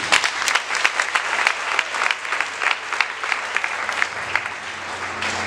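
A church congregation applauds for the Holy Spirit during a worship service, steady enthusiastic clapping from many hands filling the room without pause.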